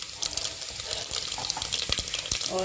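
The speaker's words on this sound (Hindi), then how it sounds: "तेल गर्म हो गया है तो मैं इसमें डाल रही हूँ ये 1 चम्मच जीरा और थोड़ी सी हींग" Cumin seeds and a pinch of asafoetida hit hot oil in a pan and sizzle with a steady, crackling hiss that runs through the whole moment, with a few small pops and spoon clinks.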